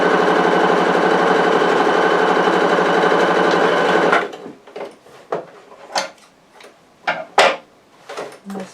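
A sewing machine stitches across the side seam of a vintage-style apron, with a loud, steady mechanical whir for about four seconds. It stops, and scattered taps and fabric handling follow.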